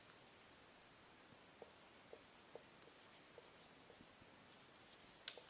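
A pen scratches across paper in soft, close strokes, writing out an answer steadily and faintly under a quiet background with a brief louder tap near the end.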